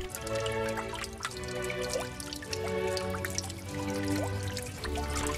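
A backyard waterfall water feature trickles and drips steadily into its pool, a soft continuous splashing that stays close and unbroken, with no talking.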